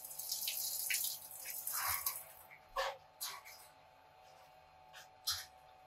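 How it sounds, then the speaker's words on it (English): Fresh strawberries rinsed under a running kitchen tap, a steady hiss of flowing water with small splashes and drips, followed by a few sharper clatters as the water stops, close by and without speech. "Your next step is you're going to rinse them."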